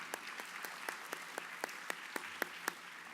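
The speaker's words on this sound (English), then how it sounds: "one more round of applause" At a school orchestra concert, sparse, evenly spaced claps ring out one at a time, a slow thin round of applause from only a few hands, fairly quiet.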